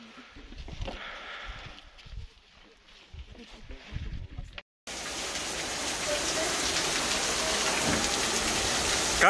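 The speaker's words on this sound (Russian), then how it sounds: "Проснулись, дождик всех напугал." Rain falling on a lakeside campsite with tents in Crimea. Light pattering at first with voices, then after a brief cut a dense, loud, steady downpour hiss to the end.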